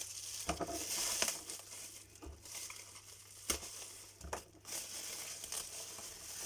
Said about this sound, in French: Alors, elle va bien emballée dans du papier bulle.